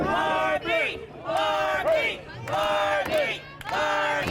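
A wrestling event crowd chanting in loud, rhythmic unison, repeated drawn-out shouted phrases filling the arena with brief gaps between them.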